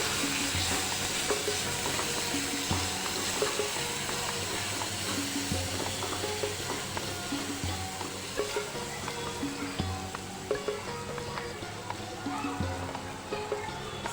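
Turmeric, coriander-cumin powder and pasta masala are stirred in a hot pan, giving a steady, loud sizzle with scraping stirs throughout and a faint voice underneath.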